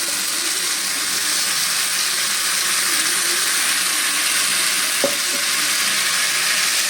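Freshly ground spice paste fries in a pan with tomatoes for a light Bengali bata fish curry, making a steady loud sizzle with a single utensil knock near the end.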